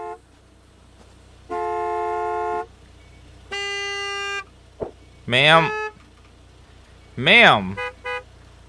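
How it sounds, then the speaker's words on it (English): Car horns honk in the Gas Station Simulator video game, with two long, steady blasts, a short blip and then two wavering, bending honks. A brief spoken word comes near the end. "You got a lot of nerve honking at me like that."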